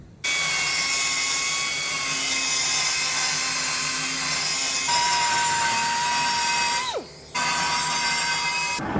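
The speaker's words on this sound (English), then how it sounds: "we'll just die grind just a little bit off that circumference on each hole all the way down" A die grinder with a new cutter trims metal around the circumference of bolt holes in a coolant-leak repair, a loud, steady high-pitched whine held for several seconds, then dropping briefly as the tool slows before spinning back up.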